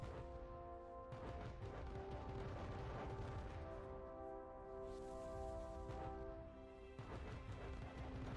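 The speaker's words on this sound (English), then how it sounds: "And now everybody, look at all the explosions." Explosions in the action game The Wonderful 101: repeated crashing booms and smashes layered over a sustained musical drone, with bursts near the start, middle and end, loud and busy.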